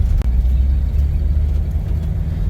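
A 1978 Jeep Cherokee with four-wheel drive rolls along a road, heard from inside as a steady low engine rumble and road drone that stays loud and even, broken once by a brief knock near the start.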